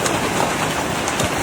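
Heavy rain and hail pounding down during a brief, violent thunderstorm in Paris, a dense, loud, continuous roar of drops striking surfaces.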